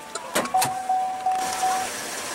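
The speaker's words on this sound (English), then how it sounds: "Automatic driver's side window" The automatic driver's side power window of a 2015 Chevrolet Captiva with a 3.0 L V6 starts with a couple of sharp clicks, then its motor gives a steady close-up whir for over a second inside the cabin.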